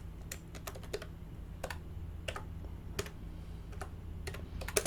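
Code being typed on a computer keyboard, with quick bursts of crisp key clicks and short pauses between, close and fairly quiet over a steady low hum.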